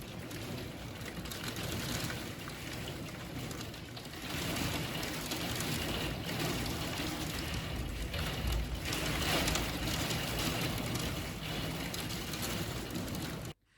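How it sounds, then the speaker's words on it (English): Heavy rain pours onto a house roof in a dense, steady roar that swells slightly midway and stops abruptly at the end, with no one speaking. "It was like someone was pouring water directly onto the roof of the house, like a big bucket full."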